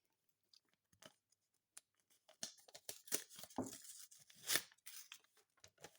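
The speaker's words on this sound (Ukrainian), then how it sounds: "Так, ось наш пакетик. Давайте відкриємо." A paper surprise packet rips open in a few short tearing bursts, preceded by scattered light clicks and rustles, close and fairly quiet.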